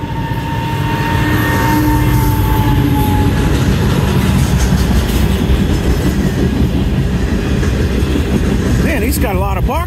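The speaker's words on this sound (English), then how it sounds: "Man, he's got a lot of boxcars today." A Norfolk Southern intermodal freight train rolls past hauling a long string of boxcars, a loud, steady rumble and clatter of wheels on rail that fills the whole stretch, with a brief wheel squeal near the end.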